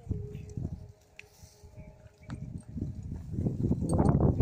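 A horse being ridden, its hooves clip-clopping in a fairly close, uneven rhythm on the ground, with louder, denser footfalls building toward the end.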